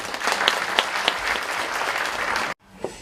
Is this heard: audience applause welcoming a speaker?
yes